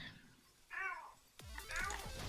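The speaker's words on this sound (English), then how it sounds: "There's the cat." A house cat meows twice, close and fairly soft, each call a short rising-falling cry with a brief gap between them, over quiet room tone.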